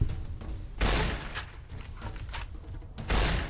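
Shotgun hip-fire in Fallout New Vegas: two loud booming blasts about two seconds apart, each followed by a short decaying tail with fainter mechanical clatter between shots.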